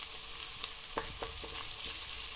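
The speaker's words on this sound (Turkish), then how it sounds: "İçerisine yemeklik doğramış olduğum bir adet kuru soğanı ekleyerek karıştıralım. Pembeleşinceye kadar kavuralım." Chopped dry onion sautéing in a pan, a steady moderate sizzle with a few soft stirring clicks and scrapes spread through it, with no voices.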